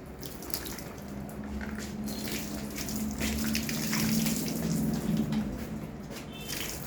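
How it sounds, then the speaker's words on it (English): Bottled water poured onto a running 12-volt waterproof ceiling fan makes a steady, close splashing and spattering rush, with a low motor hum underneath, for several seconds. "this is a bottle of water and I am going to pour it on the fan"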